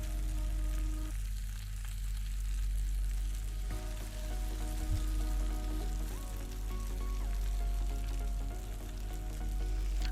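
Garlic and onions frying in a pan as paella is made, with a soft, steady sizzle that stays fairly quiet and close, broken by the occasional light stir, and no one talking.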